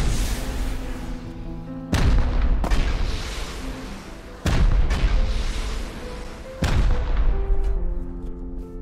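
Rockets in Rust fire and explode in four heavy booming blasts at steady intervals, each leaving a long rumbling roar that carries into the next.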